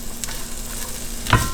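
Peppers and onions sizzle in a skillet with a steady, quiet frying hiss throughout and a brief louder clink or stir near the end; no talking.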